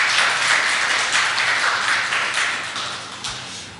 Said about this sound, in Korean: 우리 앙상블에게 다시 한번 격려의 박수